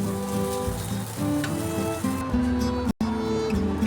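Chowmein noodles with chilli hit hot oil and fry steadily, giving a constant close crackling sizzle, like rain pattering on a surface, that carries on without pause.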